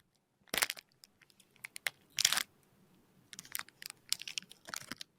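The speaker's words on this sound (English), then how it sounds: "It just sounds like crinkling bag this whole time." A gummy candy bag is opened by hand, with scattered bursts of crisp, close plastic crinkling and rustling that come in short irregular clusters between quiet gaps.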